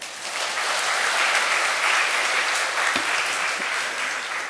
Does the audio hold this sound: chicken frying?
no